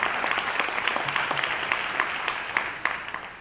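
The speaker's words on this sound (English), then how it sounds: "All right, so you can clap it up for that." An audience clapping after a poetry reading, a continuous patter of many hands heard from a moderate distance with no voices over it.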